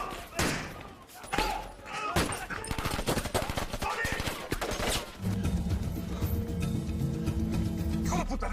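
A shootout from the Narcos Mexico series brings rapid bursts of gunfire and heavy thuds, dense and loud in the first half, then giving way to a sustained musical score, with a voice talking over parts.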